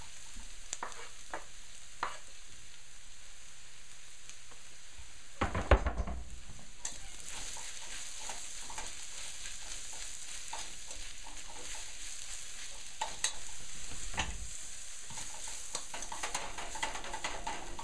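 Onions and mushrooms sizzle in a pan for a stir-fry, a steady hiss with loud clattering stirs and pan knocks, a big burst near the middle and another later, with no voices.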